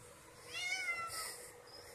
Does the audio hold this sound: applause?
no